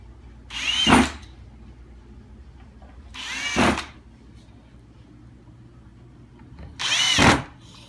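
Three separate bursts of a power drill driving screws into the circuit boards of a Williams Symphony electric piano, each rising whine lasting about a second, with quiet pauses between them.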